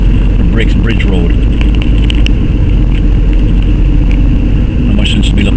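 A car drives along a rural road near Stephenville Crossing and St George's, Newfoundland, heard from inside as a steady, loud low rumble of engine and road noise that continues throughout.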